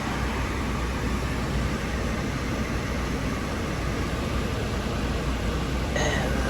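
Air conditioning in a 2014 Hyundai Santa Fe running on max recirculation and coldest setting, a loud, steady broadband blower roar that stays constant throughout, with a faint tonal tick near the end.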